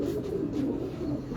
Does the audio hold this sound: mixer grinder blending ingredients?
no